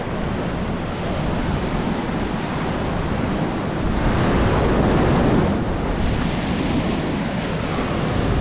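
Rough sea waves break continuously on the beach at Guriri, Espírito Santo, in a loud, steady roar of surf with wind buffeting the microphone and a brief surge in the middle.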